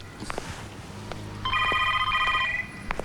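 A telephone bell rings in a home scene from a Hindi film, a trilling electronic ring lasting about a second over low background hum and faint room sounds.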